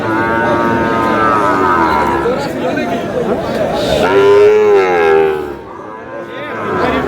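Sahiwal cattle moo at a livestock market in Munshiganj, several long, loud, drawn-out calls rising over a steady murmur of crowd noise and nearby voices.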